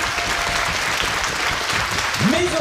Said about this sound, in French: Chers amis, je vous invite à applaudir énormément le joueur du grenier, Fred et Seb.